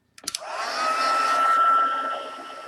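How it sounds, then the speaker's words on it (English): A handheld heat tool blows a steady, loud whoosh of hot air over embossing powder, starting after a few quick clicks and holding its constant rush for about two seconds before tapering slightly. "we can use the heat tool and see what we have"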